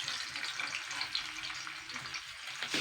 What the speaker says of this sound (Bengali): এই একটা দুটো করে ভেজে নেবো মাছগুলো।